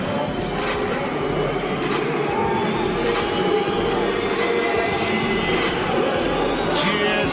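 A packed boxing arena crowd roars during the Calzaghe v Lacy world title unification fight, a loud, continuous rumble of cheering with a commentator talking over it.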